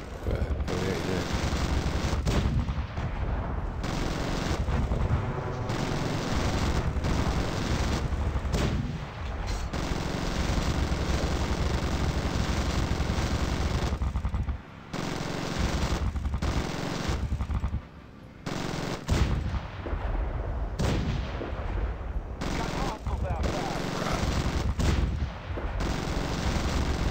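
Gunship gunfire in the video game Zombie Gunship Survival, long sustained bursts of rapid automatic fire and heavy booms, loud and dense with only brief gaps between volleys.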